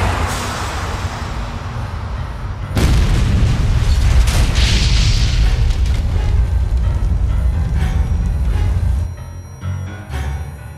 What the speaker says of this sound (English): An explosion of unknown origin decimates part of the outside wall and violently shakes the building's entire structure.